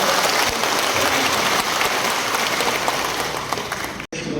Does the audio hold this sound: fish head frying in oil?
no